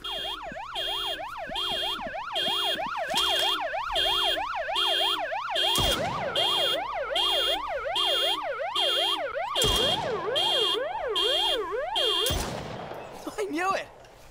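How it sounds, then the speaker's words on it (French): A car alarm in the horror game Stray Souls wails in a loud, cycling up-and-down pattern, broken by several sharp gunshots as the alarm is shot at. "Shoot the flashing light to disable the car alarm."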